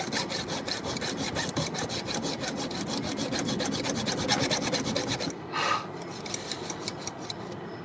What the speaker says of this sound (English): I just went through and I sharpened my teeth with my round file here